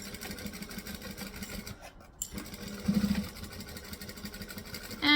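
Sewing machine stitching a tote bag with a fabric panel, running in a steady close mechanical whir that stops briefly midway, then resumes with a faster burst, alone without talk.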